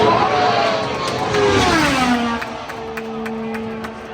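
An IndyCar race car on a qualifying lap at Indianapolis for the Indy 500, accelerating hard: a loud, close engine whine that sweeps down in pitch as it passes, then a steady drone.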